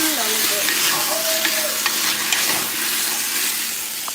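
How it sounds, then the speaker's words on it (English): A wooden spoon stirs browning food in a hot pan, sizzling and frying steadily with soft scraping and shuffling strokes throughout, close and fairly loud. "we're gonna just stir that up, and we're gonna let it brown with a wooden spoon"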